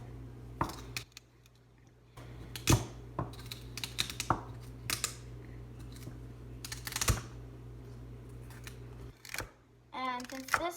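Knife cutting cooked chicken lengthwise into small pieces for a chicken pot pie, a series of sharp, irregular taps and slices on a cutting board close by, with brief talk near the end.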